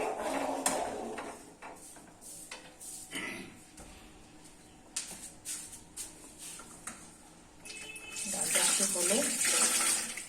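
Dishes washed under a running kitchen tap, with intermittent clatter and splashing water, rising to a steady louder gush of flowing water near the end.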